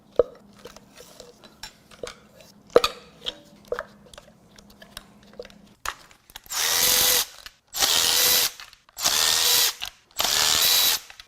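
Tool work on a 2014 BMW 328i N20 2.0L engine while the ignition coils and spark plugs are pulled: light clicks and taps at first, then four loud, even bursts of a ratcheting tool, each lasting about a second.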